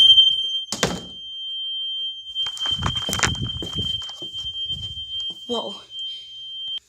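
A newly installed fire alarm under test sounds a loud, piercing high tone that holds steadily for the whole stretch, with footsteps, door thumps and a brief startled exclamation beneath it.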